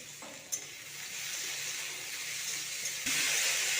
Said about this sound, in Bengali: সিমলা আর আলুটাকে কেটে ধুয়ে রেখেছিলাম, এবার ভেজে নেব।